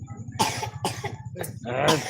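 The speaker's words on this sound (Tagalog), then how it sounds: "Ubo-ubo." Four short, harsh coughs in a row, close by, with a low steady hum underneath.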